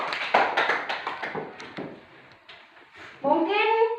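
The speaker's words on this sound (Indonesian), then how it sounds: "Mari kita tepuk tangan dulu." A class of students claps hands in a classroom, a scattered, irregular patter of claps that thins out before a raised voice takes over near the end.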